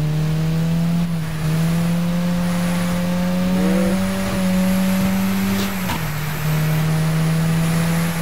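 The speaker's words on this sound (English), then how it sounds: "Gear shifting sounds horrendous." Bus engine in the Wreckfest racing game revving steadily with a strong low drone, dropping briefly at each gear shift around a couple of points, then climbing again; close, continuous and loud, with no talking.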